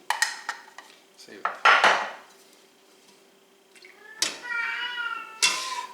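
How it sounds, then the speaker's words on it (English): A pet cat meows in a home kitchen while chicken tenders brown in coconut oil, with dishes, pans and cutlery clattering nearby; a few short meows rise over the clinking, and a voice talks briefly. "That's my cat."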